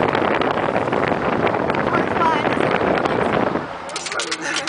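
Boat speeding along at about thirty miles per hour, with steady roaring wind and water rush buffeting the microphone, easing off toward the end.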